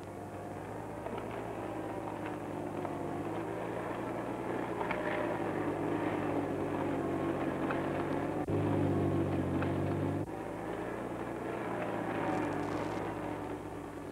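A vintage Dodge Power Wagon truck drones steadily while pulling three plows across desert soil, a continuous low engine hum with a brief louder surge midway and no voices.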